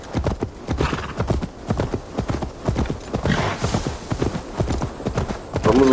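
Horse hooves clip-clopping in Assassin's Creed Valhalla, a loud, close, rapid rhythmic gallop of hoof beats with a brief whinny near the end.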